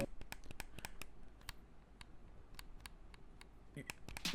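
Broken game controller button pressed over and over, a dull tap on raw plastic with no click, in scattered sharp knocks at an uneven rhythm, close and fairly quiet.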